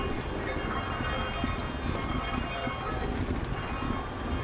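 A train ride in the video game Zelda: Tears of the Kingdom gives a dense, continuous rumbling roar with no pauses and no talk over it.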